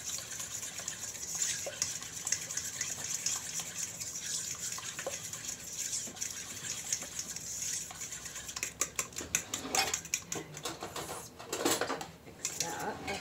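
A utensil whisks eggs and butter together in a bowl for popover batter, making a steady run of scraping clinks, with busier, louder clatter toward the end.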